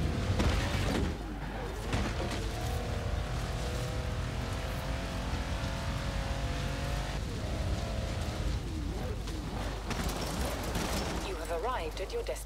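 An Audi RS7 tearing through vegetation in Forza Horizon 4, a loud, steady engine drone with rustling and thumping from the brush, while someone talks over it throughout.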